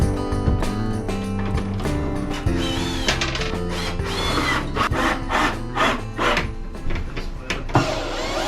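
Sawzall cutting into a wood cabinet during an island install, loud rapid reciprocating buzzes in bursts with choppy starts and stops and rattling wood, close by.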